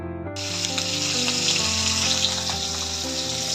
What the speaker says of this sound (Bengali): মাছ ভাজা হচ্ছে বাটা মাছ